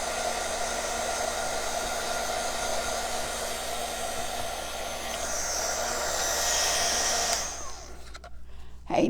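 A hair dryer runs continuously and loudly, close by, drying paint on a Christmas floral craft, a steady airy roar with motor whine that shifts slightly before cutting off near the end.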